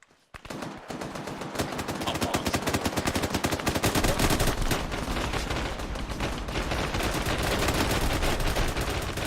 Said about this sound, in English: Look, shooting on us!